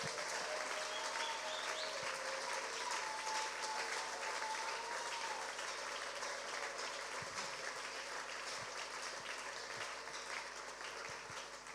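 Church congregation applauding during a worship service, a steady, dense wash of clapping that fills the space evenly and holds at a constant level throughout.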